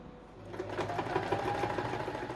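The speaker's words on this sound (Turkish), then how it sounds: "şuradan şu kadarcık bir dikiş daha gideceğim." A sewing machine runs a short seam on a foam cushion cover, giving a steady, rapid mechanical whir close by for a couple of seconds.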